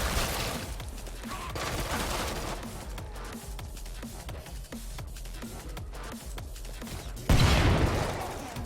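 Rapid gunfire from the video game Killing Floor 2, with repeated sharp shots picking off targets in quick bursts over a busy game soundscape, ending in a louder blast.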